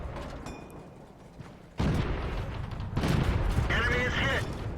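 Tank cannon fire in World of Tanks during a night battle: two heavy, booming shots about a second apart, each followed by sustained rumbling battle noise.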